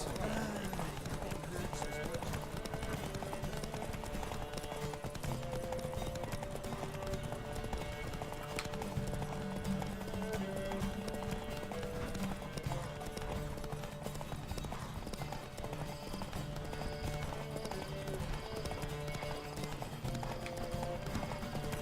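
Several horses gallop in a race in the video game Witcher 3, with a fast, steady clip-clop of hooves that runs the whole time, and a whinny is heard now and then.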